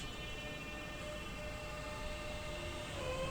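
A Class 465 electric train at Sevenoaks station gives off a steady rumbling hum layered with whining motor tones, close and fairly loud, swelling slightly toward the end with no speech.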